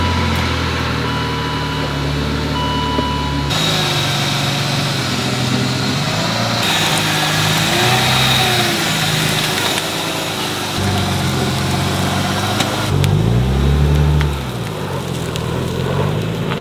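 A car's engine runs steadily, close by, while it is eased out of an awkward garage hemmed in by a well and a door, with a brief swell in revving near the end and no talk.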